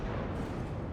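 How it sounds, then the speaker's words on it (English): Game explosions from Final Fantasy XIV Heavensward: a dense, steady rumbling blast noise fills the whole second, loud and continuous with no clear gaps. "Explosions!"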